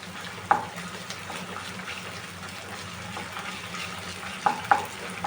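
Ginger garlic paste frying in a pan for a vegetable curry, a steady low sizzle with a few sharp clicks of a utensil against the pan, no talk.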